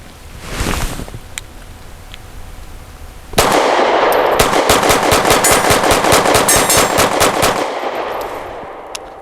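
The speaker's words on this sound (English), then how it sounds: "I'm going to try to burn it down so we can see how the gun runs at speed" A Grand Power P1 Ultra pistol fires a fast, loud string of rapid shots at a steel target outdoors. A single early report is followed by a continuous burst of closely spaced cracks that ends abruptly.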